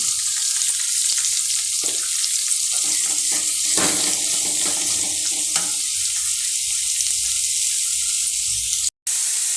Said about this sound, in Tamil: இப்போ இந்த காய் இருக்குல்ல இந்த காயை இதில் போட்டு நல்லா வதக்கிக்கலாம்